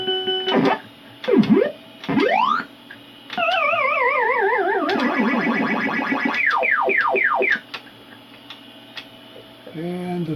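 A Ms. Pac-Man arcade board runs its sound test, playing a loud series of electronic game sounds: rising and falling sweeps, a long warbling siren-like run, quick chirping glides, then a short burst at the end.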